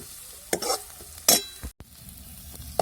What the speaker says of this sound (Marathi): त्याला बी दोन मिनिटं चांगला परतून घ्यायचा आहे सगळा मसाला